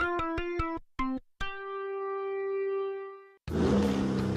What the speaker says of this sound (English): That's the sound of the 2023 Chevy Silverado's turbo high-output engine